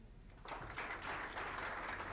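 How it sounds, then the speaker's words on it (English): Applause from an audience at a live pavilion event, a dense burst of clapping starting abruptly and sustained loudly with no talk over it. "clap for yourselves"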